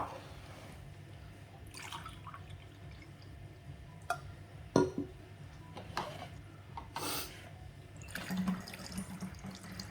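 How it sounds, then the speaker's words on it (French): Room-temperature water is poured from a glass into a container for homemade cleaning spray, with soft splashes and trickles in quiet bursts, some drips and clinks, close and fairly faint. "2 verres d'eau, eau à température ambiante."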